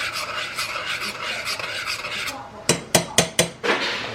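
Food stirred with garlic powder in a pan: a steady rasping scrape of the utensil against the pan, then a handful of sharp taps and knocks near the end.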